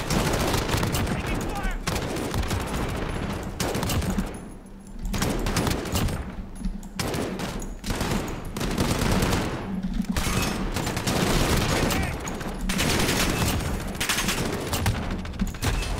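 Dense, continuous gunfire from a Call of Duty: Modern Warfare match, with rapid overlapping shots and bursts filling the whole stretch, loud and close, with brief lulls and voices mixed underneath.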